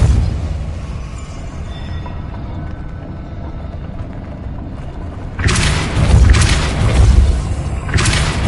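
Depulso spell cast in the video game Hogwarts Legacy: a loud, booming magical blast bursts in around the midpoint, with a few heavy surges that fall back to a steady low ambient rumble.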